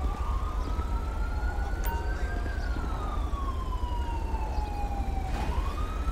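An ambulance siren in the video game GTA V with the LSPDFR mod wails continuously through the whole stretch, its pitch sweeping slowly up and down, loud and steady over a low engine rumble.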